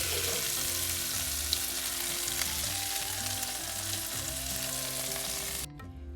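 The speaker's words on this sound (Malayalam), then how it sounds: "ഇത് 2 പ്രാവശ്യമായിട്ടാണ് വറുത്തെടുക്കുന്നത്." Shrimp fry in hot oil in a pan for a Kerala-style prawn roast, a steady dense sizzle with a few stirring clinks, continuous until it cuts off near the end.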